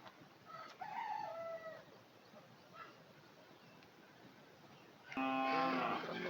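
Poultry birds in a farm shed cluck faintly over steady background noise, then a loud rooster crow bursts out close by near the end.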